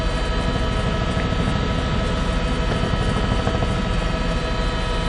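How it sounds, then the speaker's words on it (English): A law enforcement helicopter with a FLIR camera, heard from on board as it flies over a high-speed chase in Southeast Texas: a loud, steady, dense engine and rotor roar that runs unbroken through the whole stretch, with no talk. "the law enforcement helicopter that's up here with us"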